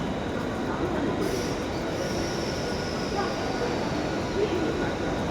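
A Mumbai local commuter train rumbles steadily along the tracks, a constant low roar with faint wheel hiss, and no talking over it.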